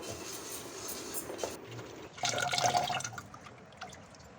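Water splashing and trickling as lentils are rinsed in a bowl, with drips and a louder swirl of water midway.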